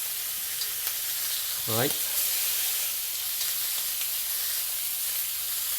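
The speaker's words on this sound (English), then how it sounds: "Now this is the kind of sear that we want" Pork chops searing in a wok make a steady, close sizzle throughout, with one brief spoken word partway through.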